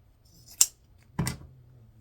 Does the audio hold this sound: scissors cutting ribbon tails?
yes